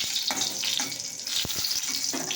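Garlic fries in hot oil with a steady close sizzle, broken by a few sharp pops and spatters.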